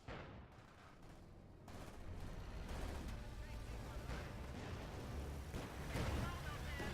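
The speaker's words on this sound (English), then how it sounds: "Almost completely annihilates that half track with the incendiary rounds." Incendiary rounds pound a half-track during a real-time strategy match, a dense continuous barrage of gunfire and explosive impacts at steady loudness, building slightly toward the end, with a commentator's voice running under the battle.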